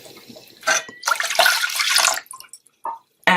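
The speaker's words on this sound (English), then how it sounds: "I'm going to add 2 cups of water." Two cups of water poured into a pot, splashing in a couple of close, loud bursts with short gaps and a few trailing drips.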